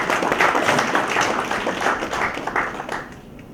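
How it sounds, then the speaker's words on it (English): Audience applause at an India–Canada trade and business event, a dense wash of many hands clapping loudly for a few seconds before thinning at the end. "Can we give them a big round of applause?"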